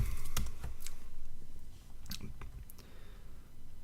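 Search keywords are typed on a computer keyboard in quick, irregular clicking runs with short pauses between them. The keys sound close and steady, with no one talking.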